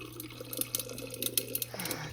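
Water runs from a kitchen tap into a cup, a quiet uneven trickle and splash close by, rising slightly in pitch as it fills near the end.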